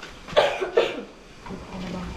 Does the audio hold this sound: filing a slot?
no